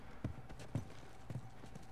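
Horse hooves clip-clopping in The Last of Us, three evenly spaced low, soft thuds at a steady walking pace, faint and mid-distance over a quiet game background.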